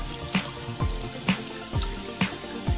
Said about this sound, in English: it's very important to wash your hands before you start cooking.